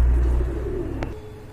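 A pigeon from a sky-blue Rajgolla pair offered for sale coos in low, continuous, murmuring tones. The calls sit close and steady, with a brief higher click near the end and no talk over them.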